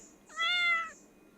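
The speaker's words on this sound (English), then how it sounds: "Kitty cat." A farm cat in the Stardew Valley video game gives one clear, tonal meow lasting about half a second, alone over a faint background hum.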